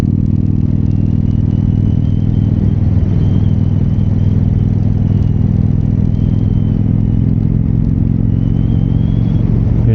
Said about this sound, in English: Oh, now there's a car behind me.